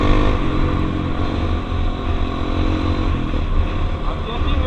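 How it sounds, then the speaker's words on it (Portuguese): A dirt bike motorcycle ridden by a woman revs steadily and loudly throughout, a continuous close engine drone with slight surges. "a mulher tá acelerando"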